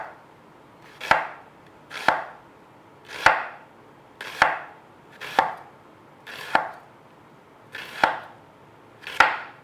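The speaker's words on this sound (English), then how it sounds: "I'm just gonna go ahead and make very thin slices." Knife cutting thin slices through half an onion on a board, eight sharp, evenly spaced chops close up in a quiet room, with no talking.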